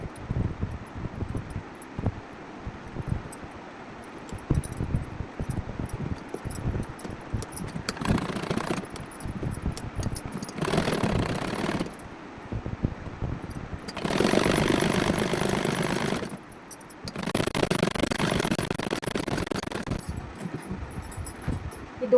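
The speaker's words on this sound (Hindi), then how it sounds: "ऐसे ही हमें दूसरी साइड सिलाई लगानी है।" A sewing machine stitches the side seams of an umbrella-style suit fabric, running in four separate whirring bursts of a few seconds each over a low, steady background hum, with no talking.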